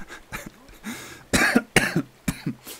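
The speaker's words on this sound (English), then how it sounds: "I can't believe I'm coughing." A person coughs repeatedly at close range, several harsh, raspy bursts in an uneven rhythm with short pauses between.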